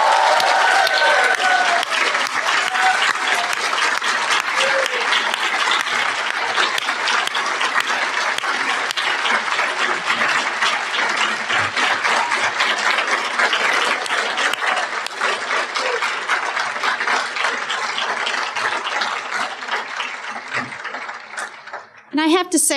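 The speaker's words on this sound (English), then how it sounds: "We're going to clap." Loud applause from an audience at a Nobel Prize in Chemistry press conference, steady and sustained for about twenty seconds before tapering off.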